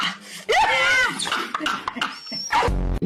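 A dog yelps and whines with high, bending cries in short bursts close by, mixed with lively talk, ending in a low thump.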